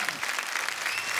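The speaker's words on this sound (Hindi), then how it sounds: "प्लीज एक बार अर्चना जी के लिए जोरदार तालियां" Studio audience applause on a comedy talk show, a brief, dense burst of many hands clapping at moderate volume with no voices over it.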